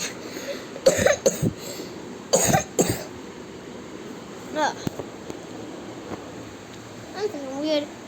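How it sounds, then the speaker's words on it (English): A few short, sharp coughs from a person, bunched near the start and again mid-way, with faint vocal sounds and quiet room noise between them. "Whenever I'm coughing,"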